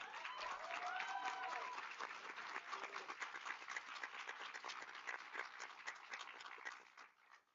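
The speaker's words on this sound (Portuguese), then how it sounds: "Palmas." A large audience applauds at an event, dense sustained clapping that stays steady for several seconds and then fades out, with a faint voice partly audible underneath.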